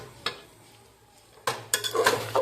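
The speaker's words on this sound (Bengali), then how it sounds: "তো এই তো কষছি মাটনটাকে, এখন ভালো করে এখন এটা কষতে হবে" Mutton being stir-fried in a pot for mutton yakhni, with sharp metal spatula scrapes and clanks against the pot over a low sizzle, a lone knock early, then a dense cluster of scraping strokes.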